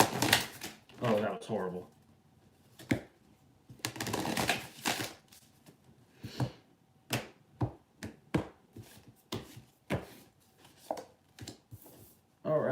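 Tarot cards being shuffled by hand in a quiet indoor room, giving repeated short riffling bursts and soft clattering flicks at a close distance, with a brief spoken remark at the start.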